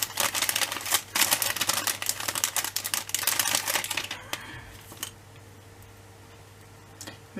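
Plastic packaging being opened by hand, giving a dense run of crisp crinkles and ticking snaps close by for about four seconds, then dropping to near quiet with a few faint rustles.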